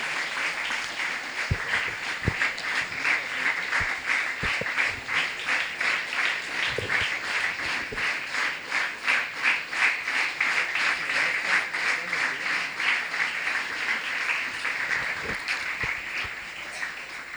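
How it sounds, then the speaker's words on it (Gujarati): A school prayer-assembly crowd welcomes a guest with sustained applause, many hands clapping steadily at a moderate distance for well over fifteen seconds. "આપણે જોરદાર તાળીઓથી એમનું સ્વાગત કરીએ"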